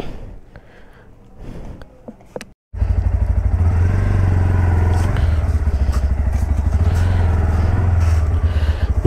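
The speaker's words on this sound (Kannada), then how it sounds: "ಇಂಜಿನ್ ಸೌಂಡ್ ಅಂತೂ ಸಾಕತ್ತಾಗಿದೆ." A Bajaj Pulsar NS160 motorcycle with a fuel-injected DTS engine starts up after a quiet pause, then idles close and loud with a steady, throbbing low exhaust note.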